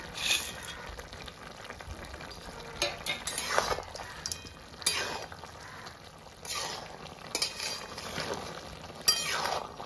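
Lentil dumplings (bori) go into a pan of simmering drumstick and vegetable curry for a Bengali posto dish, giving soft clinks, stirring scrapes and a gentle bubbling sizzle in short bursts close by.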